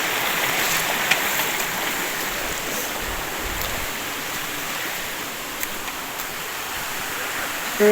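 Steady broadband rush of a mountain stream flowing over rocks, continuous and fairly even throughout with no voices.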